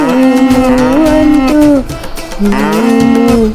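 A singing voice imitates a cow's long, drawn-out moo in two sustained, wavering calls separated by a short pause, loud and close, as part of a children's animal-sounds rhyme.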